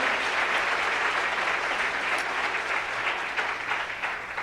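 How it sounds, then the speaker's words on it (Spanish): A church congregation applauds loudly and continuously, dense clapping from a crowd that holds steady throughout. "denle un fuerte aplauso en este momento a nuestro Señor y Rey Jesucristo"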